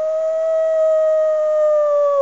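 A person imitates an adult wolf howl with the voice, holding one steady, loud, sustained tone with clear harmonics and very little pitch change throughout.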